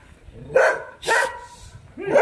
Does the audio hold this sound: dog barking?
yes